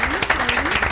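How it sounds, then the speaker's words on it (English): A brief patter of applause at a school committee meeting, many hands clapping at a moderate level while a voice talks over it. "Applause."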